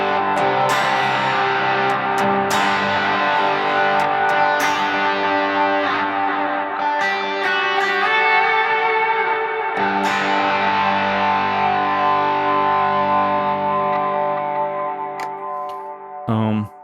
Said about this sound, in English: Snapshot 3 is Timmy and Klon stacked together.